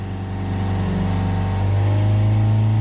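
A Ford Transit 2.2 diesel van engine with an underboost fault and a DPF fault revs up from idle, a steady loud engine drone that climbs in pitch and strains, with no talk.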